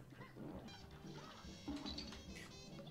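Geese in the video game Cuphead honk and squawk in a faint, busy cluster over steady game music, the calls repeating irregularly throughout.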